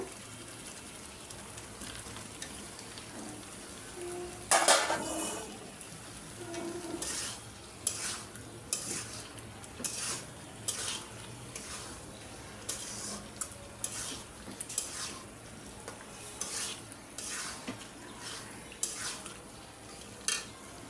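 Potatoes for aloo dum sizzle and fry in a pan while a spoon scrapes and stirs them at irregular intervals, with soft clinks against the metal over a steady frying hiss.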